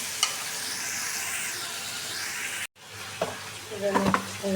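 Spices sauté in a pan for haleem with a loud, steady sizzle. It cuts off briefly, then returns more softly, with clinks and a voice speaking faintly underneath.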